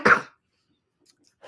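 One short cough up close, followed by near silence and a faint breath.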